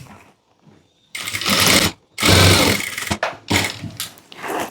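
A sewing machine stitching blouse darts in boutique-style tailoring runs loud and close in several short bursts of whirring, separated by brief stops as the fabric is repositioned.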